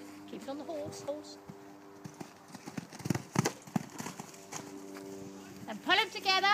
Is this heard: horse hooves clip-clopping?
yes